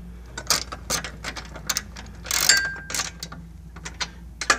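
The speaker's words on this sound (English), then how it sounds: "Take your half inch socket" A half-inch socket ratchet tightens bolts while an infrared barrier frame is installed. It gives off a series of quick, irregular clicking bursts, close and fairly loud, with short pauses between runs of turns.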